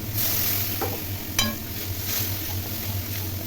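Rui fish masala stirred and fried in a pan, a steady close sizzle with a low hum beneath and a sharp clink of the spoon against the pan partway through.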